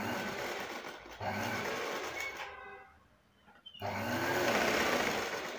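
A sewing machine stitches rope in steady whirring bursts, running continuously, pausing for about a second, then starting up again, close and fairly loud.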